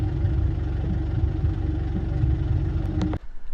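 A Jaguar XE exhaust with a faulty exhaust damper gives a close, steady low droning vibration for about three seconds, then cuts off abruptly.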